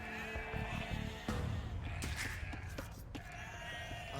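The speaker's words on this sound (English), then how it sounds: "We found a sheep." Sheep bleating in the video game Age of Empires II: Definitive Edition, several wavering bleats over steady game music and ambient effects, with faint background sounds throughout.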